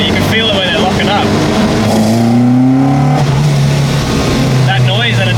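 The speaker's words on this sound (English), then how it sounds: "That noise, that induction noise" Ford Escort MK1 RS2000 street car engine with loud induction noise, revving and shifting with rising and falling pitch from inside the car, with voices talking over it.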